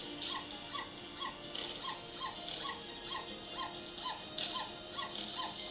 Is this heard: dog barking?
yes